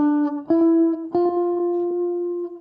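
A four-note tetrachord of whole step, half step, whole step played on a sustained instrument, each pitch sliding in with a soft attack and the last note held out clearly with no talking.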